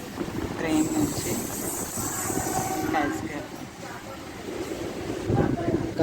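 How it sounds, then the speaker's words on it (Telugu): An MMTS local train in Hyderabad on the Umdanagar to Secunderabad line rumbles steadily from inside the coach, with voices talking over the running noise. "మండి నుంచి ట్రైన్ డిపార్ట్ అయిపోయింది"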